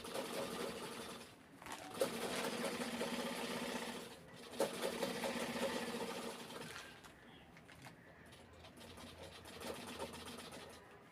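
A sewing machine stitches fabric for a cover made from an old saree, running in steady whirring bursts with brief pauses between seams, close and moderately loud with no talking.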